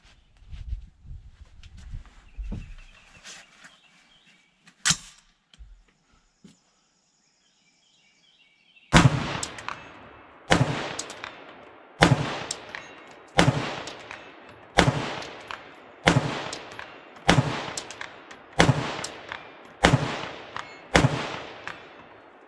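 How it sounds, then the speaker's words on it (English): Rapid series of sharp AR-15 rifle shots from a POF Renegade Plus with a tuned gas system, about nine evenly spaced loud cracks after a few quieter handling sounds and a single earlier shot. "we'll take some shots at 2 with Renegade Plus"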